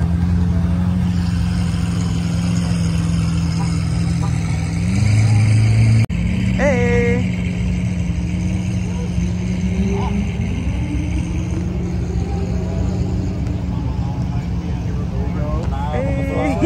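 A car engine idles and rolls slowly into a parking spot at the SEMA show, a loud steady rumble with a brief rev and varying tones, people talking over it.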